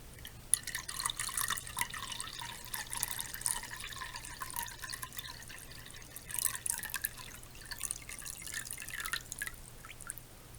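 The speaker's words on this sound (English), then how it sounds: "So I'm just going to use this regular water now and pour it in our bowl." Tap water pours from an antique silver pitcher into a bowl, a close, continuous splashing and trickling stream with dripping that swells and eases, no voices heard.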